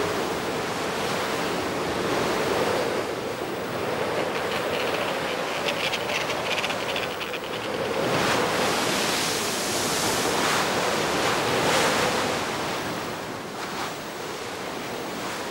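Rough Antarctic ocean surf: a continuous, loud roar of churning waves that swells and breaks every few seconds, with a wind-like hiss and no voices.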